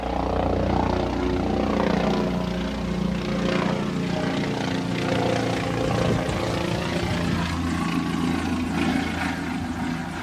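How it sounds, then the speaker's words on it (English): A propeller aircraft drones steadily overhead, a loud continuous engine hum with a slowly shifting pitch as it passes. "The airplane coming by."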